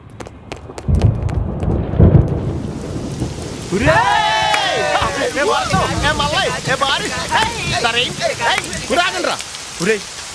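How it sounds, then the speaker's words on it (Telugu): Thunder rumbles and heavy rain pour in a Telugu film scene, with a loud crash early on, then steady rainfall beneath rising music. "ఫోన్ ఎట్టగానే ఉరుములు మెరుపులు వచ్చేస్తున్నాయంటే వెంటనే వర్షం వచ్చేద్దే"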